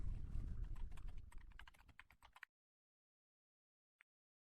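Quick bursts of computer keyboard typing, crisp close key clicks for about two seconds, then silence broken by one faint click.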